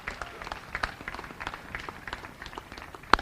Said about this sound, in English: I want you to give yourselves a round of applause for joining us today.